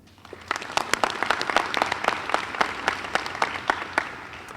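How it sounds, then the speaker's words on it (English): Audience applause at a Dean's List reception honoring students, a steady round of many hands clapping at moderate loudness, with a few sharper claps standing out throughout. "please take a moment and give a big applause to yourself"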